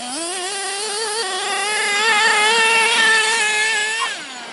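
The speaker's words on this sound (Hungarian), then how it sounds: "Nagyon gyors az autó, nem tudom követni." A fast model car's small engine screams at a high, steady pitch, climbing as it speeds past and then dropping off near the end, loud and close with no talking.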